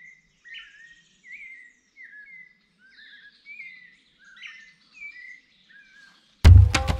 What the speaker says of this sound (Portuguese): Uma das coisas que eu acho incrível aqui é a quantidade de pássaros.